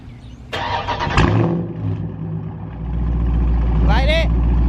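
A 2021 Dodge Charger Scat Pack widebody cranks and fires up with a sharp catch. It then settles into a deep, loud, rumbling idle that swells slightly toward the end.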